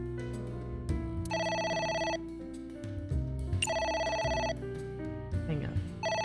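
A phone rings in the video game AI: The Somnium Files, its electronic tone repeating in two or three bursts over a low musical backdrop, with a voice talking briefly.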